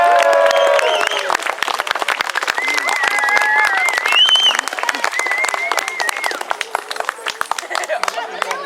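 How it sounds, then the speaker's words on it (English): A crowd at a battle reenactment at Backus Mills claps and cheers in a dense, steady wash of applause, with voices talking and calling over it throughout. "You give can't them a find big me. cheer"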